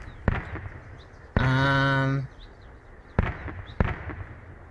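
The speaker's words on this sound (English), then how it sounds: "You guys are shooting an awful lot" Video game gunfire and explosions: sharp broadband bangs burst out at intervals, a sustained tonal blast with ringing harmonics lasts about a second in the middle, and scattered quieter pops fill the background.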